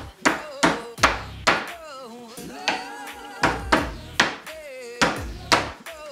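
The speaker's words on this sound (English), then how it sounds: "You need the hammer or your mallet to get these in." Repeated sharp wooden knocks from a mallet tapping painted Ikea Alex drawer pieces into place, struck in quick pairs and bursts, with a person talking between the blows.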